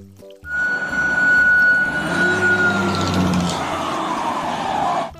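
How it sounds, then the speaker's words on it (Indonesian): A toy fire engine's wailing siren sounds loud and close over a rumbling motor, holding steady for a few seconds before tapering off. "di sini ada mobil pemadam kebakaran"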